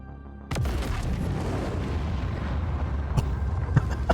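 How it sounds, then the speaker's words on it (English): A bomb dropped from an A1 Spirit aircraft in Star Citizen detonates with an abrupt loud boom, followed by a sustained heavy rumble with a couple of sharper cracks near the end. "I'll drop the bomb. There it goes."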